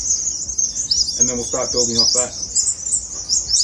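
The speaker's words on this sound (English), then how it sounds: "You can hear the birds going crazy in the background." Birds chirp loudly and continuously outdoors, a dense high twittering chorus with insect-like buzzing that runs through the whole stretch, while someone speaks briefly over it.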